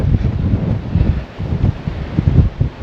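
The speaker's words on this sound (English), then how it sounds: "Bloody wind." Wind gusts by a tidal river, buffeting the microphone in loud, low, rumbling bursts that surge and ease over a few seconds, with no voices.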